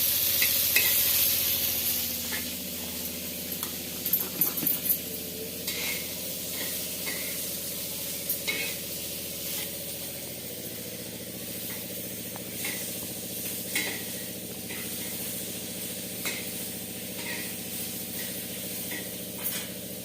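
Fish fried in a pan and turned a few pieces at a time, giving a continuous close hiss and sizzle with occasional light scraping and clinks, without speech.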